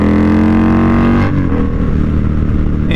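A customized Indian Scout Bobber motorcycle engine revs hard and close, a loud continuous roar that drops slightly in pitch partway through, with no voices.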